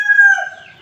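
A rooster crows once at close range, a loud, clear, tonal call that rises, holds and then trails off within a second, with no other sounds around it.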